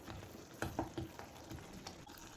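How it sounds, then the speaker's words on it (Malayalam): Soft stirring and sizzling of banana and rice-flour batter with cardamom powder in a pan for kinnathappam, quiet scraping strokes over a gentle fry, no voices. "നല്ലതുപോലെ ഇളക്കി കൊടുക്കുക."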